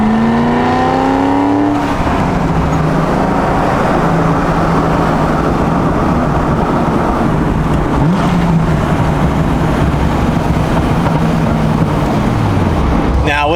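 Loud straight-piped Corvette Z06 engine revving up with a rising pitch, then holding a steady roar with sustained rumbling and shifting tones throughout.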